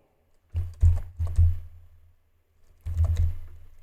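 Bursts of key presses on a computer keyboard as an npm install command for React Markdown is typed, two quick clusters of clicks, a pause, then a final flurry, close and fairly quiet.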